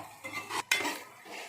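Chicken curry pieces coated in chili powder being stirred and fried in a pan, with a few close metal spoon scrapes and a sharp clank against the pan amid faint sizzling.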